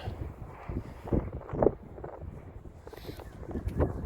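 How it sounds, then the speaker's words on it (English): Gusty wind buffets the microphone, producing low rumbling bursts that swell and fade over a few seconds, with faint rustling underneath. "it's a little bit windy"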